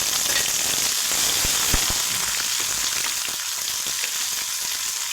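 Curry leaves, cumin and ginger-garlic paste frying in hot oil, a dense, steady crackling sizzle held close and loud throughout, broken by a few sharper pops, with no talking.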